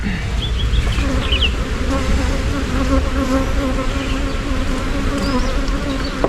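Honeybees hum loudly and continuously on a beehive frame holding brood, honey, eggs and drones, a dense close buzz with individual bees whining past now and then.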